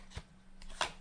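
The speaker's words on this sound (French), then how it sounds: "On va aller chercher cette carte au milieu de ce jeu." Tarot cards are handled to draw one from the middle of the deck, with two brief, soft card slides and flicks about half a second apart, close and quiet.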